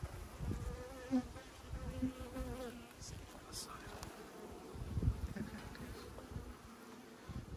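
Honey bees buzz around an open hive during a brood harvest from a troubled hive, a dense swarming drone with handling knocks and thumps, close by, while a voice speaks faintly at times.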